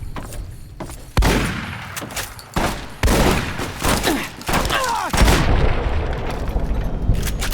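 Shotgun blasts and booming gunfire in the video game Fallout New Vegas, several loud reports in an irregular sequence over a dense, rumbling battle background.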